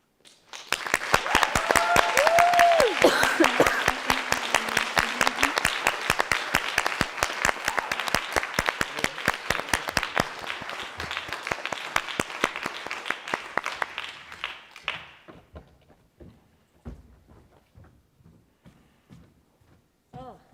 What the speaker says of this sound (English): Can we get another round of applause for all our speakers today?